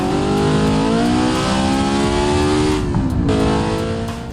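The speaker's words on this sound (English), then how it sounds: "this one feels like the definition of a high revving VTEC car" SR Technica Pessima in the BeamNG driving game, a high-revving VTEC-style engine screaming at high rpm close and loud, holding steady before pitch dips briefly around a gear change and climbs again.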